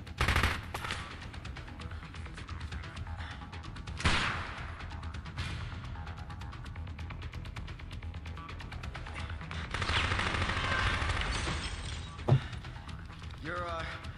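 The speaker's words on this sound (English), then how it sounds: "I hear automatic fire." Automatic gunfire rattles through the food court of the video game Dead Rising, a dense continuous burst under game sounds, with a louder thump near the start and another midway and a brief swell of shots toward the end.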